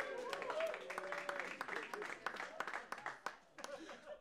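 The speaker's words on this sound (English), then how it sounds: "I can tell by that reluctant-ass applause" Sparse, half-hearted audience clapping at a stand-up comedy show, scattered claps thinning out with some crowd voices mixed in.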